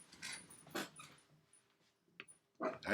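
Dog whimpering in short high whines with a couple of sharper yips and barks, close and fairly quiet, in bursts separated by pauses.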